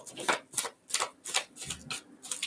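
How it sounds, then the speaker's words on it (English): Tarot cards being shuffled by hand, a run of quick crisp riffling bursts in an even rhythm, close and fairly quiet, with no talking. "Do a good shuffle."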